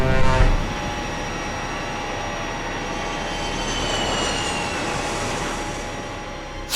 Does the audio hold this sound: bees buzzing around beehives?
no